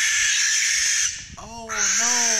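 A barn owl gives a harsh, hissing screech that fills most of the moment, loud and close, broken briefly by a rasping tonal call before the screech resumes.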